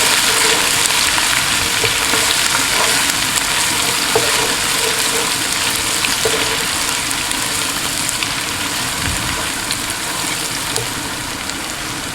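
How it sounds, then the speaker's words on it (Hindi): Ginger and garlic paste frying in a pan, giving a steady, close, continuous sizzle with faint crackles, no talking over it. "अदरक का पेस्ट 1 टेबल स्पून, लहसुन का पेस्ट भी 1 टेबल स्पून, और इनको साथ इसके फ्राई करेंगे।"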